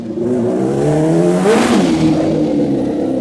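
A limited-production, hand-built supercharged 1,000 cc Kawasaki H2R motorcycle revs hard nearby, its engine pitch climbing in a loud rising whine that peaks and then settles back, with no talking over it.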